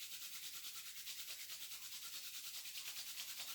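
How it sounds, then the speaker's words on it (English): Hands rub together vigorously to build heat, a faint, steady, close-up swishing friction with an even back-and-forth rhythm and no voices. "I want you to bring the hands together, and I want you to start rubbing them really strong"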